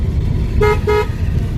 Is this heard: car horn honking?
yes